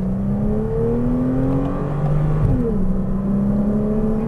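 A Porsche Cayman R revs hard on a race track, its engine note climbing steadily, dipping briefly at a gear change, then rising again, loud and close from inside the cabin.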